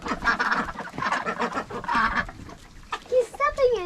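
Ducks quacking and honking among other farm fowl in freezing weather as feed is put out, a burst of loud calls near the end following people talking over the birds.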